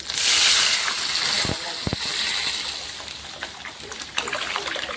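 Thin tomato juice being poured into a pot for rasam, a steady trickling splash that swells loud at the start, then settles into a quieter ongoing dribble with a few brief knocks partway through.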